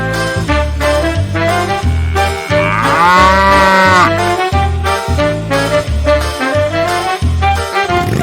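Cow mooing loudly and close over a pulsing rhythmic background, a long drawn-out bellow rising in the middle of the clip.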